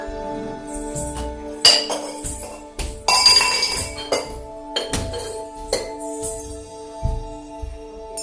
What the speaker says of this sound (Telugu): మళ్ళీ ఇక్కడ గ్లాస్ పట్టలేదు మహాలక్ష్మి.